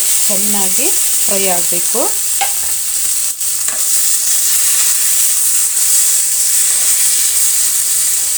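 Tomatoes and curry leaves fry in a hot pan for rice bath, a loud steady sizzle and hiss throughout, while a spoon stirs and scrapes near the start and a few brief tonal squeaks sound early on.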